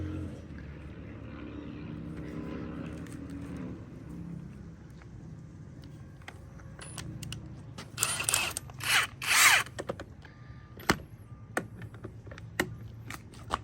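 Two high-torque cordless impact wrenches, a Milwaukee M18 2763 and a Hercules, compared in a test; a steady mechanical drone runs throughout, then several sharp loud bursts of hammering impact arrive in quick succession near the end.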